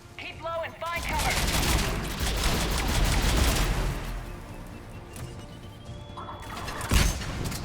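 A mounted gun in Mass Effect 3 fires long, loud, rapid bursts over a steady rumbling background. Short chirping game sounds are heard at the start, and a voice talks briefly under the din.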